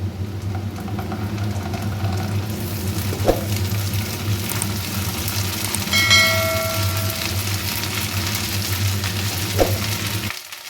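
Onion and ginger paste fries steadily in a pan for a cauliflower and potato curry, a continuous close sizzle with a low hum beneath and a couple of brief clinks, ending abruptly.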